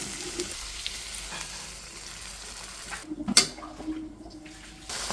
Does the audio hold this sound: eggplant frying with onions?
yes